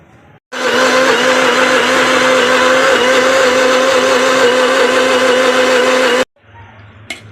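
A kitchen mixer grinder blends garlic and salt for an okra gojju, a loud steady whirring motor that starts abruptly, runs for about six seconds and cuts off, with quiet room sound before and after.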